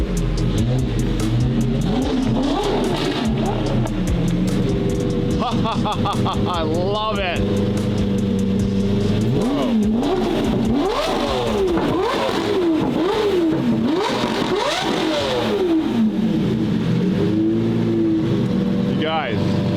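A Lamborghini Murcielago GT1 race car engine revs loudly and close, its roar rising and falling in repeated surges beneath excited, overlapping talk.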